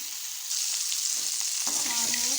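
Bitter gourd sautéing in salt in a clay pot, a steady loud sizzle and fry that grows fuller partway through, with faint clinks of stirring.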